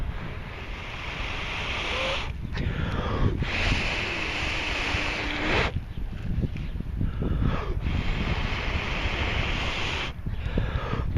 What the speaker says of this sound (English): The wind's helped me out a lot right now.